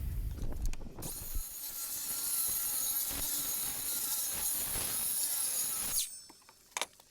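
Steady power-saw trimming of edges on a wooden carpentry jetty, a continuous high whine running about five seconds after a short start, then stopping with a couple of clicks at the end.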